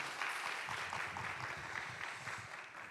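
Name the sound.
congregation applause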